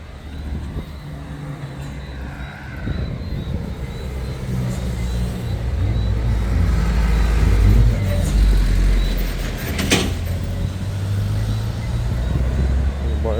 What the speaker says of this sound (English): the traffic is always back up down this way